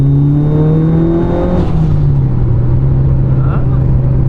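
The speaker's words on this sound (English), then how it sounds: "Third means more RPM, so you gotta rev it." A Mitsubishi Lancer Evolution IX engine revs up loudly in third gear, its pitch climbing through the gear before dropping into a steady drone, with a brief voice heard underneath.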